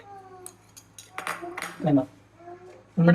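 A spoon stirs laddu payasam, a sweet pudding with fried cashews and raisins, in a pot, giving a few sharp metallic clinks and scrapes near the end, with softer kitchen sounds earlier and a faint steady hum underneath.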